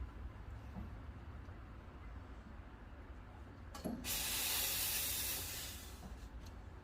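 A Quick Mill Rubino espresso machine's steam wand steams milk, heard as a faint background hum that bursts into a loud, steady hiss for about two seconds before tapering away.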